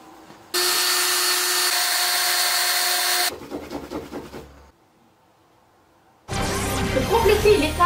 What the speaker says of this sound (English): We can also polish for a very shiny and clear finish with polishing compound.